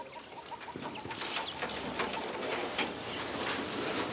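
Three-week-old, fully feathered young game birds, moved the day before from a brooder into a grow-out cage, give steady overlapping chirps and peeps above a constant background hiss.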